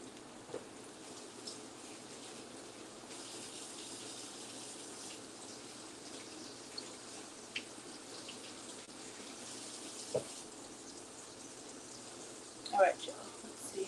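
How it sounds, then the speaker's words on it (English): Water runs steadily from a kitchen tap while hands are washed with soap during home dinner cooking, a continuous soft rushing with a few brief splashes and knocks, fairly close. "Wash my hands with soap."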